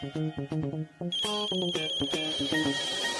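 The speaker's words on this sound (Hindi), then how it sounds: "मेरा मतलब तेरे फोन की घंटी बजी" A melodic phone ringtone plays a repeating pattern of bright electronic notes, close and clear, continuing without any voices.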